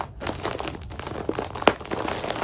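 A peel-and-stick plastic mailer bag is folded over clothing, giving close, busy crinkling and rustling with a few sharper crackles, heard alone without talking.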